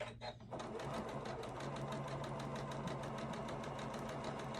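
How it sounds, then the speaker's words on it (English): A sewing machine top stitching a cloth face mask, a fast steady mechanical rattle running close and continuous after a brief pause at the start. "now I'm going to top stitch it"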